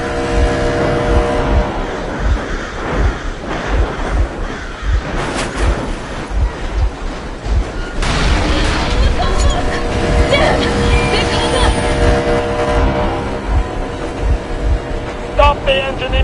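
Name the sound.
vehicle engine running in video game Metro Exodus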